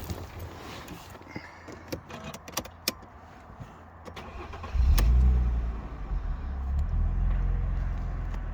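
Mercedes SLK 280 starts with a key: clicks and a jangle of keys, then at about five seconds the engine cranks and catches, settling into a steady, close idle.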